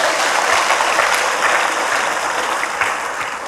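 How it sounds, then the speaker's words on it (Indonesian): Steady applause from a large crowd fills an outdoor stadium during an official civil-servant appointment ceremony in Kupang, sustained and dense throughout without a break. "Sekali lagi tepuk tangan dulu buat Bapak Ibu sekalian."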